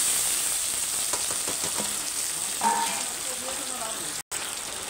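Whole garam masala and onions frying in hot oil for chicken kosha, a steady close sizzle with faint stirring crackles throughout and a brief dropout near the end.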